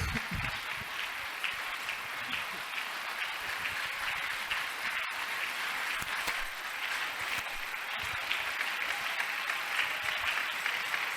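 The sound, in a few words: congregation applauding in church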